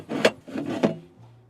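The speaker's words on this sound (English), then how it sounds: "the way this mounting bracket works by the looks of it is it slides on like that." Mounting bracket for an Ohme EV charger sliding into place: a couple of short scraping, rubbing strokes up close, followed by a faint low hum.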